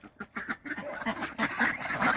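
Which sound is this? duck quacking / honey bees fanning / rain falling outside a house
duck quacking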